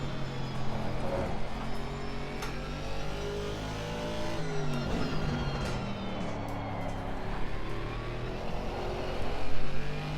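Race car engine in Assetto Corsa Competizione, droning steadily and loudly through a corner, its tone stuttering and wavering as traction control cuts in, then rising toward the end.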